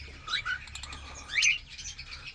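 Lovebirds in a breeding cage give quick, high chirps and short twittering calls, fairly close and moderately loud, in a few bursts over a quiet background.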